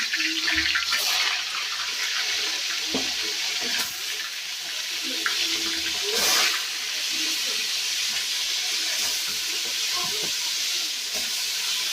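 Chicken pieces frying one at a time in hot oil in a village kitchen, a steady close sizzling hiss that swells as each new piece goes in, with brief clatters and no talk.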